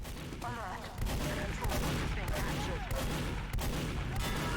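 Rapid bursts of gunfire in a competitive team shooter match, dense overlapping shots with explosions and game effects, loud and continuous, a voice talking faintly underneath.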